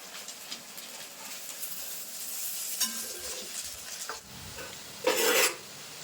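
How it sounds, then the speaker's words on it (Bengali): Sago (sabudana) pakoras deep-frying in hot oil give a steady close sizzle throughout, with a few soft clinks and a louder burst of crackling near the end. "আমি ভেজে নেব এগুলো তেলের ভিতরে দিয়ে দেবো"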